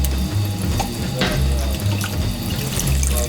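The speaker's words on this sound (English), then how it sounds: "To start off, I just want to wash my hands." Water runs steadily from a tap into a wash hand basin during handwashing, a close, continuous splashing stream with slight shifts as hands move under it.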